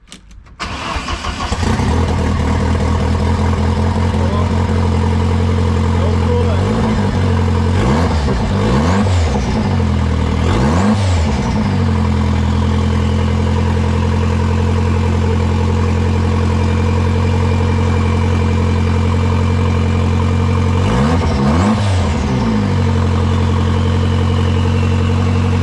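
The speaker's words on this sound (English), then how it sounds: "We got the engine running" A turbocharged Saab engine fitted in a Pontiac Fiero cranks and catches, then settles into a loud, steady idle with a deep rumble. It runs for the whole stretch, with a few brief revs or clatters along the way and no talking.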